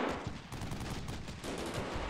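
Rapid machine gun fire from an M240 team in Combat Mission Shock Force 2, a continuous rattling burst of suppressive shots heard at moderate distance for about two seconds.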